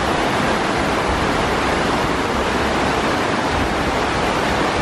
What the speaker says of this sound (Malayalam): ബേസിൽ അതിസാഹസികമായിട്ട് വെള്ളച്ചാട്ടം മുറിച്ചു കിടക്കാൻ ശ്രമിക്കുകയാണ്.